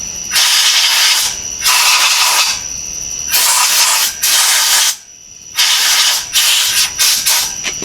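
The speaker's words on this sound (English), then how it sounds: "Just got a little bit of preliminary fluid film sprayed on her here." Fluid Film rust inhibitor sprays from an aerosol can onto the front end of an OBS Ford F250 in repeated loud hissing bursts, each a second or two long, with short pauses between them.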